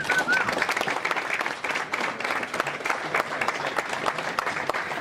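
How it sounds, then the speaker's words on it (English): A crowd at St Pat's Baseball Club's 50th anniversary speeches applauds the club's first president, John Martin, with steady, full clapping that fills the room at moderate volume. "Round of applause, please, for John."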